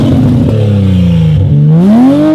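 A widebody 2020 Toyota Supra runs with its exhaust pipe detached, a very loud, raw, close engine drone that dips and then climbs in a rev.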